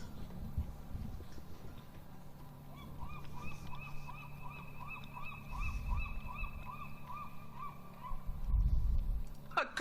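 Bird in the point-and-click adventure game The Journey Down giving a long run of rapid, evenly spaced honks, steady and fairly clear over a low background hum.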